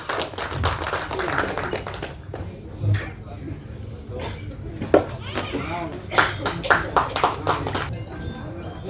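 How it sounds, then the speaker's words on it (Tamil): Scattered audience clapping at a Tamil film event, uneven and sparse with some sharp nearby claps and taps, while people talk and a voice is heard in the room. "நல்ல ஒரு கைத்தட்டல் கொடுத்துடலாம்"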